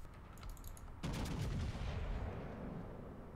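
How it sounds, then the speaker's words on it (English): Naval artillery salvo from the battleship Sovetskaya Rossiya in the game World of Warships: a faint rattle of clicks, then a sudden loud boom about a second in that swells and lingers as a sustained roar. "That's one of the few actually good long-range salvos we've had."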